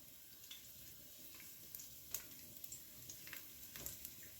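Garlic sizzling in olive oil in a pan for vegetable soup, a faint steady hiss with scattered tiny pops and ticks, no voices.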